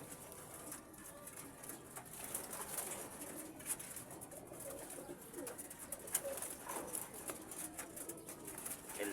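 Pigeons in a loft coo softly and continuously, with faint rustling and chirps from the flock; the sound is low and somewhat distant, with no talking.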